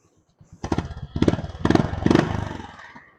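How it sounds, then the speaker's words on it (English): A 2025 Honda CB350RS motorcycle engine revs up in several throaty bursts, its exhaust popping and rumbling loudly nearby, then settles into a sustained growl. "this is how the exhaust sound is"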